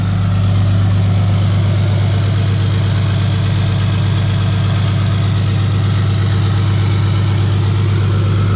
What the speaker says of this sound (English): A little bit of high idle is so good for the soul.